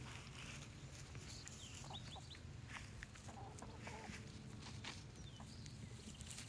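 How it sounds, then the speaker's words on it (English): Chickens fight and cluck in a country yard, with scattered sharp squawks and clucks, brief scuffling steps, and a constant low background rumble; moderately distant. "Chickens are fighting."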